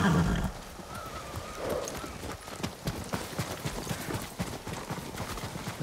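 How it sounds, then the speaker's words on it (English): Horses in Ghost of Tsushima: a whinny up front, then steady clip-clop hoofbeats trotting close by, with a voice briefly at the start. "Leave the horses here."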